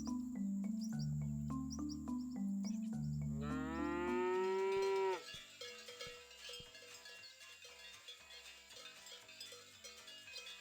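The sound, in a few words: cow mooing in video game Scott Whiskers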